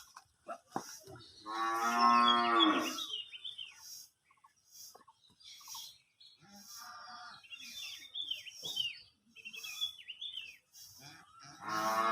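Cattle on a calf-breeding farm give a long, loud, close moo, followed by quieter lowing and grunts, with birds chirping faintly in the background and occasional voices nearby.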